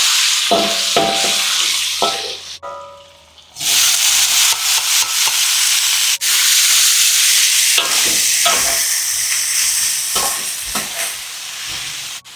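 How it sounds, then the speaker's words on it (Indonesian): Cassava leaves with shrimp paste sauté in a wok, a loud continuous sizzle broken by repeated scraping stirs, with a short quieter pause early on before the frying roars back. "Jadi pertama-tama saya mau tumis daun singkong dulu."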